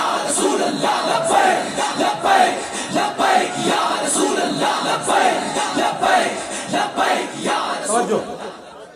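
Large crowd at an outdoor religious gathering in Gujrat chanting in loud, rhythmic call-and-response bursts, voices massed and continuous across the whole stretch.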